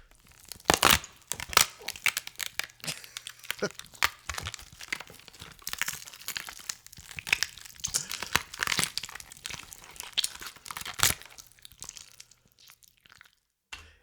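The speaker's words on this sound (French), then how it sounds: "un zombie est en train d'ouvrir la cage thoracique de sa victime" Horror sound effect of a zombie tearing open a victim's ribcage: close, wet crunching, crackling and tearing noises running continuously with sharp louder snaps scattered throughout.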